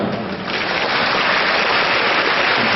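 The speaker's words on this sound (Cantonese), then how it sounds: "大家俾啲掌聲我聽下嘛？" A live audience applauds at a Mother's Day concert, a dense, loud wash of clapping that swells after a brief start and holds steady.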